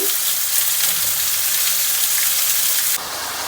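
Ground beef and diced onion browning in a pan for a casserole, a steady close sizzle and crackle with no talk, the frying noise continuing unbroken to the end.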